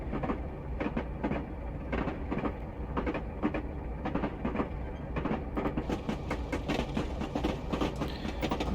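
Class 37 diesel locomotive coasting downhill with the throttle off in Train Simulator Classic on the Inverness to Kyle of Lochalsh line, with steady rhythmic clickety-clack of wheels over rail joints and a low rumble, moderately loud.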